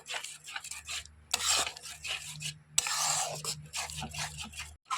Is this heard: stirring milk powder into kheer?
yes